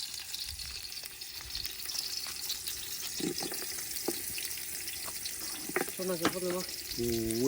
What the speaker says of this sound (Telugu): ఈ ఆనియన్స్ మొత్తం పచ్చివాసన పోసి గోల్డెన్ బ్రౌన్ కలర్ వచ్చేంత వరకు బాగా వేయించుకోవాలి